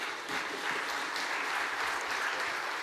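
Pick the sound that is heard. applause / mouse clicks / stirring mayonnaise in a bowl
applause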